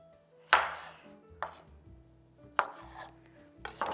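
A knife chops cherry tomatoes on a cutting board, four sharp separate cuts spaced about a second apart, close and clear in a quiet kitchen.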